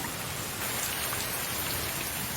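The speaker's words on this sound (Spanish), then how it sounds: "La tormenta interrumpe la comida de un águila marcial." Steady rain from a Serengeti thunderstorm hisses evenly across the whole stretch, a constant wash of drops with no thunder or voices standing out.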